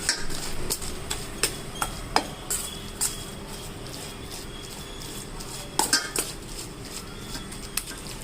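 A spoon stirs rice flour into a sweet corn and egg breakfast mix in a metal pot, giving scraping clinks and taps at an irregular rhythm, close and moderately loud with no talk.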